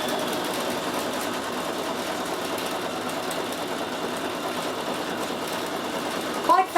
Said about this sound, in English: It's actually hard to walk away from the machine when it's embroidering because it's so much fun to watch it.